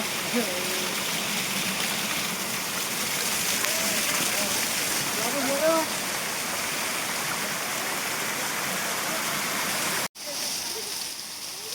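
Steady broadband rush of the Mahor waterfall stream flowing, continuous and fairly close. A voice talks over it, and it cuts out briefly near the end.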